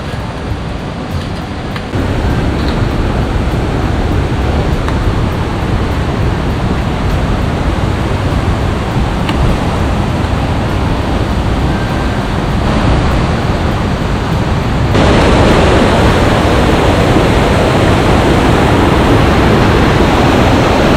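Phu Soi Dao waterfall and stream in Thailand after rain, a loud, broad rush of falling water that stays constant and close, growing even louder near the end.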